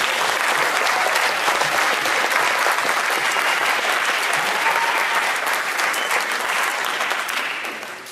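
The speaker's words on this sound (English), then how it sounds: "Let's clap it up for you guys." Loud, dense audience applause fills a youth summer camp closing ceremony, sustained evenly before tapering slightly at the very end.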